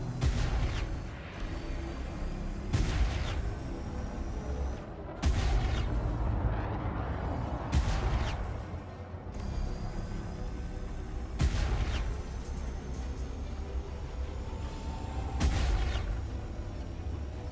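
Spaceship cannons firing in the Elite Dangerous space game, a series of heavy booming shots spaced several seconds apart over a constant rumbling engine drone.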